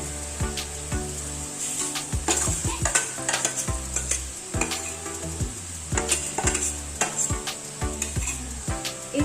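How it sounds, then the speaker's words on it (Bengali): Lentils frying and being stirred in a pan for sabu khichuri, with a continuous sizzle broken by rapid, rhythmic scraping and clinking strokes of the spoon against the pan. "এবারে আমরা ডাল দিয়ে দিচ্ছি।"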